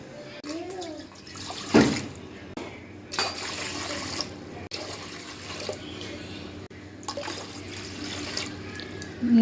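Glassfuls of water are poured one after another into a cooking vessel for making vadiyalu with upma rava, several close splashing pours separated by short pauses, with a voice talking between them.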